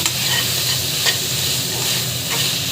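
Biryani masala and green chillies sautéing in a pan, giving a steady, dense sizzle with soft stirring scrapes, close and loud, with no speech.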